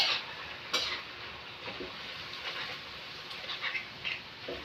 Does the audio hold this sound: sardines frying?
yes